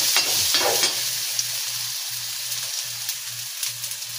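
Tomatoes sautéing in a hot pan for chicken tinola give off a steady close sizzle with stirring scrapes, while a low pulsing hum runs underneath throughout.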